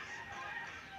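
A chicken clucks at the neighbor's place, faint and a short way off, a brief soft fowl sound set against steady outdoor background noise.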